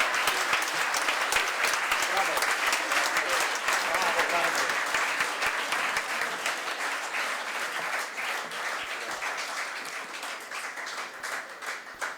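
Sustained audience applause for Italy's silver medal winner at the Entente Florale Europe awards ceremony, dense and steady before thinning slightly toward the end.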